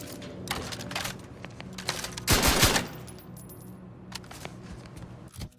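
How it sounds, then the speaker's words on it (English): A sawed-off heavy machine gun in The Outer Worlds 2 fires a rapid, clattering burst in the middle, surrounded by lighter mechanical clicks and rattles. "Sawed-off heavy machine gun. Let's see how that is."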